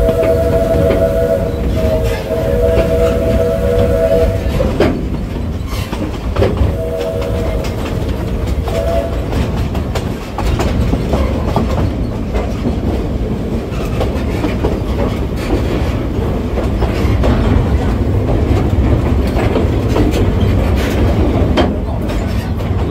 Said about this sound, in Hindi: मुझे जो चीज़ सबसे अच्छी लग रही है इस ट्रेन में, इसकी आवाज़, वही आवाज़ आ रही है जो बचपन में हमें ट्रेनों में आती थी।